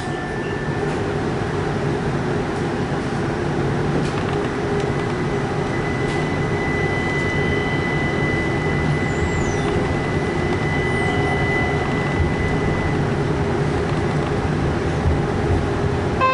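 A Brookville Liberty NXT tram on the Tacoma Link light rail rumbles along steadily, heard from inside the car as a constant low rolling drone with a faint whine and occasional squeaks from the wheels.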